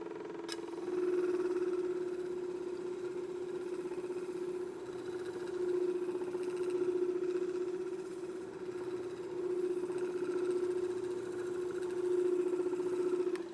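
Glass murrini, Castlevania holy water pieces, is ground on a grinder, producing a steady motorized hum that swells and eases slightly in level, moderately quiet and continuous.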